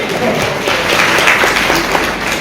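Audience applause at a Krishna Consciousness devotional gathering, a steady dense wash of clapping that stays fairly loud and even throughout without talk over it.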